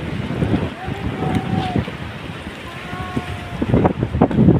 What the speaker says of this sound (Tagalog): napakalaki ng alon dito